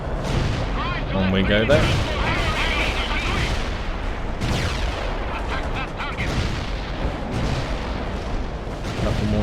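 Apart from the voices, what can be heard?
artillery fire in the video game World in Conflict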